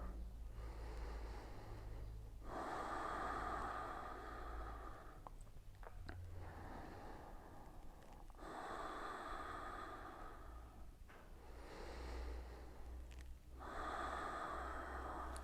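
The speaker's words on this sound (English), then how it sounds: "And we'll take 3 more breaths here." Slow deep breathing during a yin yoga session: about four long, airy inhale-exhale cycles, evenly spaced and close, over a faint low background hum.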